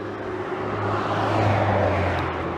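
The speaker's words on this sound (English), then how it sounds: "There's cars." Cars passing on a busy city street in Boston, a steady close whooshing road rumble that swells toward the middle and fades slightly, with no talk over it.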